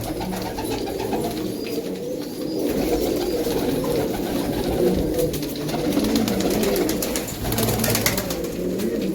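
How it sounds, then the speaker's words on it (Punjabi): Pigeons coo in low, throaty, repeated phrases nearby, a steady murmuring chorus lasting several seconds with light rustling and no talk. "ਤਾਂ ਹੀ ਐ ਉੱਪਰ ਆ ਜਾ ਕਰਦੇ ਕਬੂਤਰ"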